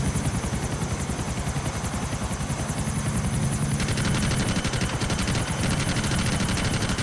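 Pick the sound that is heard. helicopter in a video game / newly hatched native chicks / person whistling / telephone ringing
helicopter in a video game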